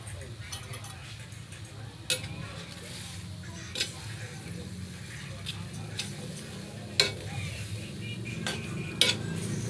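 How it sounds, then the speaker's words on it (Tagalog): A chicken neck dish is stirred in a pot, with occasional sharp clinks of a utensil against the metal over a low, steady cooking background. "Haluin natin mga idol ng konti"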